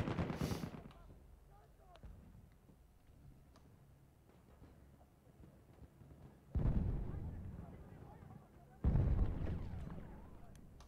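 Battlefield 1 video game combat with a heavy bomber and gunfire: a sharp blast at the start, then two heavy booming explosions later, over a low rumbling battle background.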